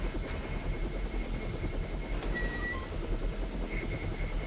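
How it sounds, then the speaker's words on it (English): Helicopter in the video game Deus Ex, escaping the Majestic 12 facility, its rotor thudding as a steady rapid chop under a constant engine drone, close and continuous with no talk. "we did escape the Majestic 12 facility in the helicopter."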